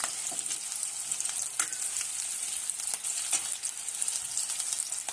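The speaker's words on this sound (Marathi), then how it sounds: "तर आपला कांदा पाहू शकता कशा प्रकारे भाजला गेला आहे" Chopped onion frying in hot oil for a spicy village-style chicken curry gives a steady, loud, close sizzle that runs unbroken and without any talking until it cuts off at the end.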